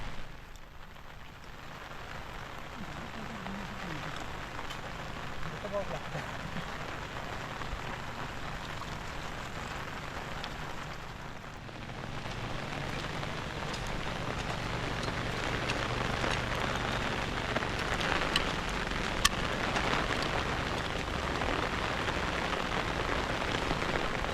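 Steady rain falls outdoors on a farm in the Konkan countryside, a dense continuous patter on surfaces that thickens slightly partway through and carries on with no speech.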